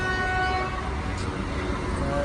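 Train noise rumbles at a busy platform, with a steady low drone and a faint, distant horn-like tone held over the background.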